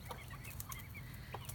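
Backyard chickens, including roosters of a Polish breed among an established flock, cluck in a low, steady murmur, with a few brighter calls rising briefly above the continuous chatter.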